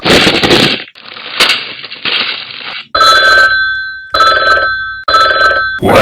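Old-style telephone bell ringing loudly and close in several long bursts separated by short pauses, the later bursts carrying a steady harsh metallic tone.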